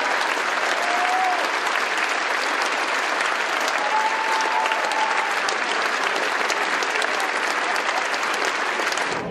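An opera house audience applauds wildly, a loud, unbroken roar of clapping that fills the whole stretch, with a couple of brief whoops or shouts rising above it before it cuts off.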